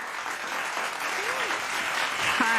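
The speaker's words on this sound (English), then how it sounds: "big round of applause for our good friend, Spring Vocals." Steady applause from an audience at an open mic comedy show, a dense wash of clapping that holds at an even level for the whole moment, with a faint voice near the end.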